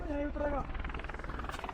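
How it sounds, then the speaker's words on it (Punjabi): Helicopters starting up near Hemkund Sahib make a faint, low rhythmic thrum that runs beneath a person talking close by. "ਤੇ ਬਾਕੀ ਹੈਲੀਕਾਪਟਰ ਵਗੈਰਾ ਵੀ ਸਟਾਰਟ ਹੋ ਗਏ"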